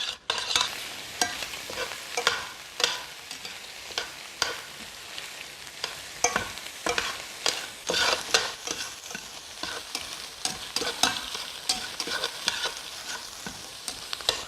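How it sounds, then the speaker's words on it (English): Shrimp scampi sizzles and fries in a hot pan, a steady close crackle broken by frequent sharp stirring scrapes and clinks of a utensil against the pan throughout, with no talking. "So put it back on the heat, cook it 2 to 4 minutes, depending how hot it is."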